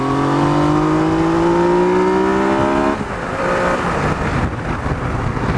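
Yamaha MT-09 Tracer motorcycle accelerating hard, the engine note climbing in pitch through a gear before a shift, then continuing with loud wind roar, close and without talk.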